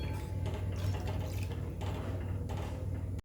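Water poured from a brass tumbler, about two glasses' worth, into a cooking pot of sautéed ingredients for a spicy Maharashtrian home-style dish, with a steady, close splashing rush that lasts throughout.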